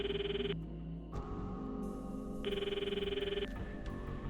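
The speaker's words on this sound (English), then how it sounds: "The footsteps overlapped with the sound of the ringing." A telephone ringing in the Steins;Gate 0 video game, with a repeating electronic ring tone that pulses on and off in steady bursts over a low, busy background.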